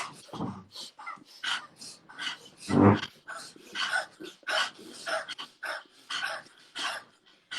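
People imitate a dog's panting during a breathing exercise, a quick rhythmic series of sharp, breathy in-and-out puffs, close and fairly soft, repeated many times with brief gaps.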